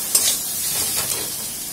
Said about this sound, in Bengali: আর সামান্য চিনি আর অল্প নুন দিয়ে এটাকে কষতে হবে।